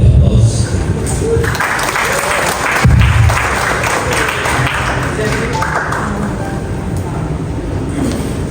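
Audience applause at a graduation ceremony, a sustained, loud wash of clapping from a large crowd with a brief louder swell near the start, carrying on continuously to the end.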